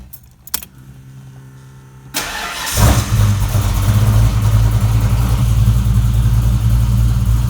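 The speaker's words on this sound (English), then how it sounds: "even though this car is not perfectly dialed, with this cam in, it still starts just fine cold" A car fitted with a Comp Cam XE274HR camshaft cold starts, with a few clicks before the starter cranks briefly and the engine catches into a loud, steady, rumbling idle.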